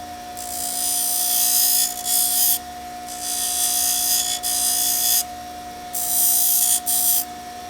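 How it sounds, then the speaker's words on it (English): Power tool grinding the end of a wooden stick round: three loud, sustained grinding bursts with short breaks between them, close up over a steady electrical hum, with no talking. "Grind off the end. So it's nice and rounded."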